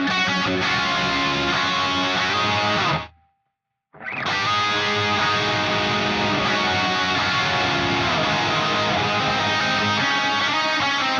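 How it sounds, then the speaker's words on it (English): Distorted electric guitar with hot pickups runs through gated delay and reverb on an Axe-Fx, loud sustained chords that cut abruptly to silence for about a second, then return and ring on. "Now this is the gated delay and reverb back in."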